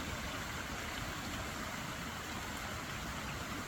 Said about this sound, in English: And then down there is the babbling brook.